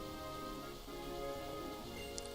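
Steady video-game rain from Pokemon White hisses on without a break, a dense continuous patter that fills the scene with no voices over it.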